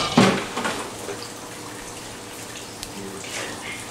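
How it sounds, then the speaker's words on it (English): A toilet flushing, with a steady rush of water that swells at the start and then keeps churning at a moderate, fairly distant level for several seconds. "Flush."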